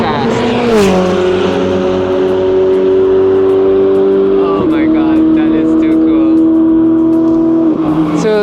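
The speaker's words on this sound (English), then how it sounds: "Here comes the 488 Evo challenge car. Looking mighty fast." A Ferrari 488 Challenge Evo race car screams past on a circuit at Clark Speedway, its loud high-revving engine holding steady tones that drop sharply with a gear change as it nears and passes, with faint talk underneath.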